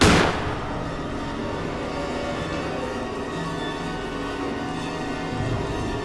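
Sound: gunshot in Granny video game

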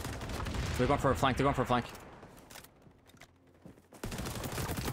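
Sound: gunfire shooting a barrier in video game XDefiant

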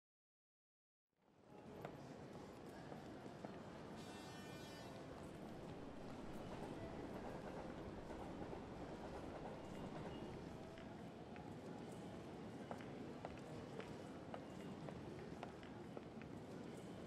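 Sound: train arriving at a station

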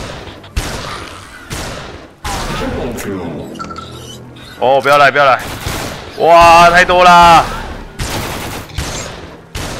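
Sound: gunfire in video game The Walking Zombie: Dead City

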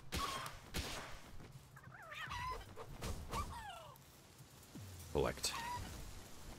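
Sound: chicken clucking in a video game

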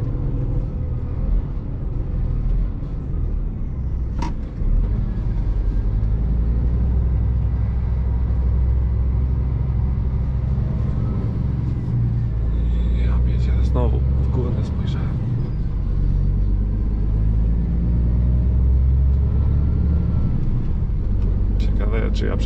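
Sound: new Scania truck driving, engine and gear shift

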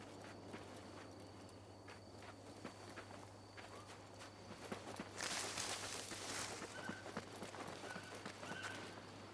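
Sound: horse hooves and neighing in video game Assassin's Creed Mirage

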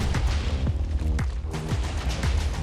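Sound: gunshots from a video game

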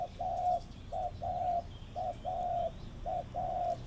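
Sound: decoy dove cooing

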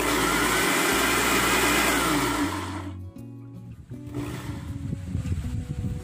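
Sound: blender blending sliced yellow carabao mango

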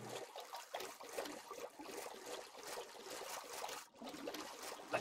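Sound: flowing river water in the video game Minecraft

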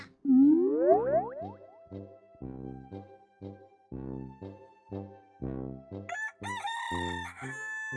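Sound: rooster crowing

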